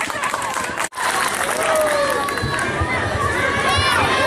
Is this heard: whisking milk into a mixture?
no